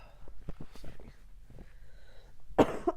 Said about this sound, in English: I'm like literally coughing.